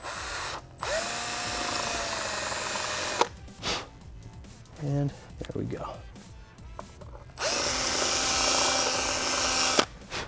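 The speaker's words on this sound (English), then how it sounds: "this is where you will drill a 1/8 inch hole" A power drill bores a 1/8 inch hole in an undertail fender eliminator bracket on a 2017+ Honda Grom motorcycle, two sustained whining runs separated by a pause with brief handling noises and a short spoken remark.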